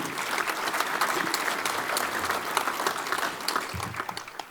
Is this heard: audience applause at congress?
yes